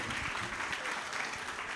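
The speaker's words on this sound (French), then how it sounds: "On les applaudit encore très très fort." Steady, dense applause from a crowd at a children's holiday-club contest, sustained and fairly loud throughout with no pauses.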